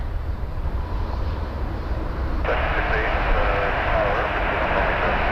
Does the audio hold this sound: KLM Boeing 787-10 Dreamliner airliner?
yes